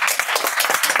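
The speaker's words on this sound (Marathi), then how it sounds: "टाळ्या वाजा तिला पण" Classroom of fifth-grade students clapping for a classmate during a mathematics lesson, a brisk, steady burst of many hands close by with no talking.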